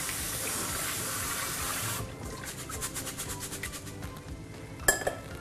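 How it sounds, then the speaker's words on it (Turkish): Bulgur wheat for pilaf rinsed under a running kitchen tap: a loud, steady hiss of flowing water for about two seconds, then quieter trickling and a brief clink of a bowl or utensil near the end. "O yüzden şöyle azıcık bir sudan geçiriyorum."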